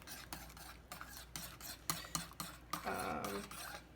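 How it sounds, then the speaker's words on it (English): A spoon stirs honey into a mug of ginger tea, giving repeated close clinks and scrapes against the cup in a steady rhythm, with a denser rattling stretch near the end and no talking. "I'm going to put the teaspoon of honey in there, and I'm just honestly going to stir it up."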